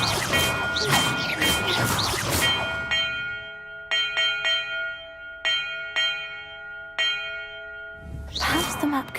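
Bells in Hogwarts Legacy ring out in a quick series of bright, sustained strikes with long ringing tails, the chimes clear and close after some busy noise at the start, followed by another burst of clatter.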